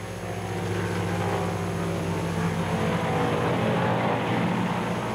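A WWII fighter plane flies fast and low, its propeller engine a loud, steady droning roar that holds throughout without a break, close and alone.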